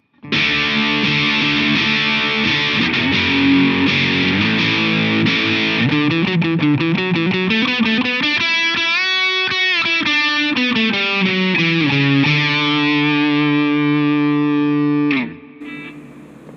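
An electric guitar through an MXR Custom Badass '78 Distortion pedal plays heavily distorted, sustained chords with bending, sliding pitches, loud and continuous, then cuts off abruptly near the end.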